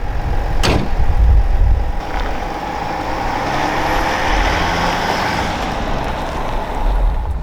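Chevy 1500 pickup with a 3.0L Duramax diesel engine driving, heard as a steady low engine drone and road rumble under broad wind noise, with a short sharp transient near the start.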